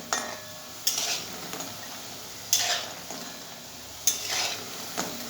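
Red lentil fritters being stirred over and over as they fry in a pan: a faint sizzle underneath sharp spoon scrapes and clinks against the pan at irregular intervals, close and fairly quiet.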